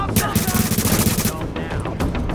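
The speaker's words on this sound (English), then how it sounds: "he's shooting right through the barrier" Rapid automatic gunfire in The Division video game, a dense burst of loud shots lasting over a second, then scattered impacts and game noise.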